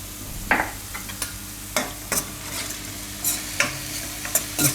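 A masala spice mix cooks in a pan with a soft continuous sizzle, broken by several scraping spoon strokes at irregular intervals, close and moderately loud.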